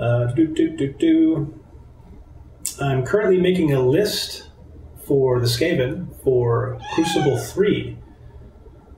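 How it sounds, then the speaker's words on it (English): A cat meows repeatedly and loudly nearby, drawn-out wailing calls that come in several bursts, overlapping and alternating with someone talking. "That's the cat"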